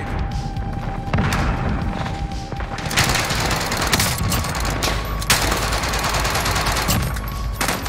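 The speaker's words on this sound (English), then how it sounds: "Throwing frag grenade." A frag grenade blast and rapid gunfire in Warzone, loud thumping bursts and sharp impacts layered over a dense, continuous battle din with no talking.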